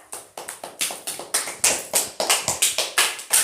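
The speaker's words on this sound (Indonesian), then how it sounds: "Ya, tepuk tangan untuk Mbak Citra." A classroom of students clapping for a classmate, loud, close, quick bursts of hand claps in an uneven rhythm, alone with no talking.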